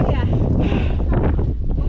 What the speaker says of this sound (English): Whoa, it's windy up here.